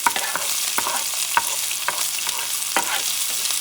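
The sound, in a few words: stirring sofrito peppers sizzling in a pan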